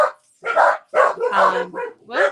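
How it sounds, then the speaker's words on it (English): Dogs bark close by indoors in about five sharp, uneven bursts. The barks carry a whiny, yipping edge, and a short word is spoken between them. "Sorry about the barking dogs."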